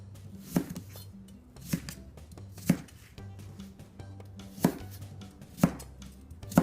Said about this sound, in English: Now we're going to cut up our apples into approximately 1-inch pieces.